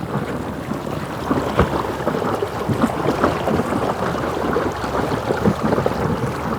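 Water splashes and laps continuously against a small boat's hull powered by an ePropulsion Spirit 1.0 Plus electric outboard, with wind buffeting the microphone and no motor noise.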